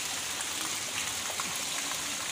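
Rain falls in a steady, even hiss at night outdoors, a soft continuous wash of drops with no voices.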